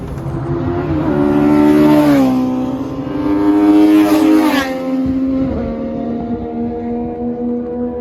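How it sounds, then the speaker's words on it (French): Legends cars lapping a race track during a track day, their engines revving loudly as they pass close by one after another, pitch rising and falling with each pass before fading. "ce que je viens de vous filmer c'était des légendes cars"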